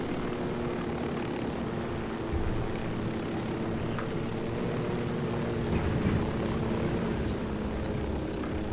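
An aircraft or helicopter flying in the video game Ghost Recon Wildlands gives a steady, droning engine hum that holds at an even level throughout, with no voices over it.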